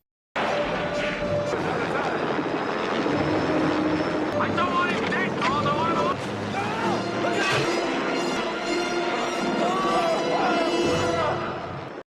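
Helicopter in a Rambo action film, struck by a thrown stone and losing its balance, its engine roar buried in a dense, loud soundtrack mix with crashes and voices talking throughout.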